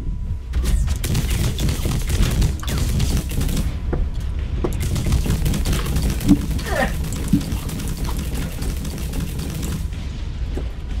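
Gunfire crackles through a robot battle video game, with dense repeated shots and booming impacts running continuously over a loud busy mix of game noise, without clear speech.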